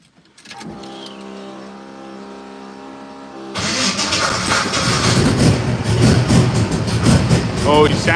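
An engine idles with a steady humming tone after its carburetor idle is raised, then abruptly turns louder and rougher as it revs and runs hard and close.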